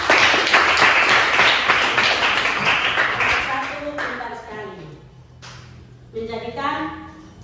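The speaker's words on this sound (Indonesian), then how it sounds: "tepuk tangan dulu ya anak-anak" Children clap their hands together in a quick, steady rhythm, fairly loud, at a family-focused religious gathering, while a voice talks over the clapping and carries on after it fades.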